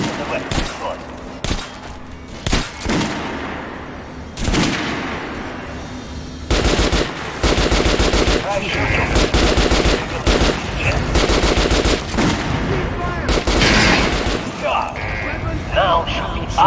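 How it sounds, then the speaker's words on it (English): Gunfire at a shooting range in the game Metro Last Light: loud bursts of automatic machine-gun fire and single shots, near and dense, with gaps and brief mechanical clicks between volleys. "Head over to my range and try out those guns."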